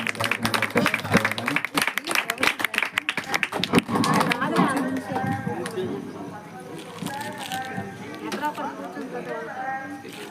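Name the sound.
congregation clapping at Christmas church celebration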